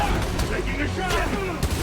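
Gunfire in the Spider-Man: Miles Morales video game during a fight at a Roxxon lab: rapid, overlapping shots crackle in a dense volley, with game voices faintly mixed into the busy scene.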